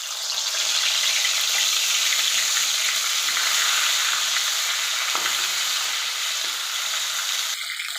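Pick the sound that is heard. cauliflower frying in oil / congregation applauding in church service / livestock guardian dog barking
cauliflower frying in oil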